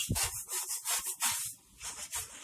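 Scrubbing caked-on grime off a stove top, close rhythmic rubbing strokes in quick back-and-forth bursts, brief pauses between them, no talking.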